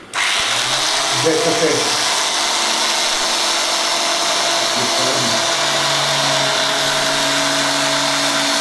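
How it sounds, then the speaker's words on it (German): A handheld grinding tool running nearby with a steady, loud whine, its pitch wavering slightly while a voice speaks briefly over it. "Demonstrieren Sie doch einmal dieses neue Schleifgerät."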